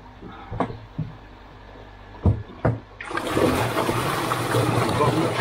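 Water gushes steadily through the opened slide valves of an Easypod koi pond filter, following a few sharp knocks and clunks as the valves are worked.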